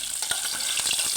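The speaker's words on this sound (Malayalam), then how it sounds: "ഇനി നമുക്ക് ഇതിനകത്ത് കടുക് വറുത്ത് കുറച്ച് കറിവേപ്പിലയായിട്ടിടാം" Mustard seeds and curry leaves fry in hot oil for a tempering on avial. The sizzle is steady and close, with quick little pops and crackles, and no one speaks.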